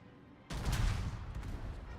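Warship guns fire in a naval video game: after a quiet moment a heavy, booming salvo erupts and rumbles on, loud and sustained until the end.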